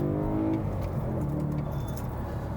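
A 2008 BMW M3 engine downshifting through a curve gives a steady, fairly quiet mechanical drone whose pitch shifts as the gears change, heard from inside the car.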